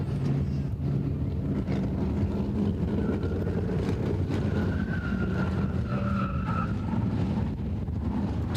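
Sprint cars race around a speedway track at a Westernapolis meeting, a continuous loud roar of engines blending with wind noise and crowd-like wash, rising and falling slightly as cars pass.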